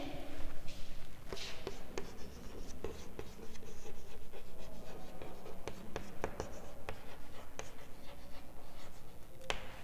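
Pen strokes scratch rapidly across paper as a physics passage is written out by hand, with close, continuous scribbling broken by small taps and pauses.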